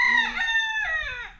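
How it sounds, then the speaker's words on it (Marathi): A rooster crows once close by on a Konkan village farm in the early morning, a loud, drawn-out call that rises and falls in pitch and then trails off, with no talking. "कोंबडा आरवतोय कोणचा तरी"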